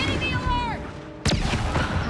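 A fireworks burst sounds in Star Wars Outlaws, a sharp loud blast about halfway through that rings out, over ongoing game ambience, with a descending whistle-like tone fading beforehand.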